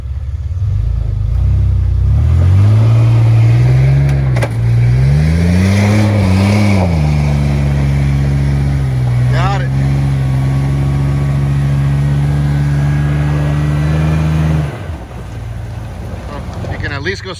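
A Toyota Tacoma pickup revs hard while pulling a stuck pickup out of mud, its engine rising and falling in pitch before holding a strained tone, with wind buffeting the microphone and no clear talk.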